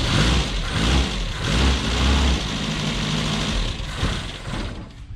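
An Opel GT engine fitted with a Weber 32/36 carburetor idles loud and close in a rough, throbbing rumble that rises and dips unevenly, like a low idle being tuned.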